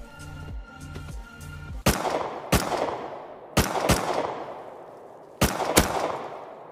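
Gunfire in the survival game Rust as shots are fired into bushes: sharp, loud reports in spaced pairs and single cracks, each followed by a trailing echo, after a short stretch of rumbling game ambience.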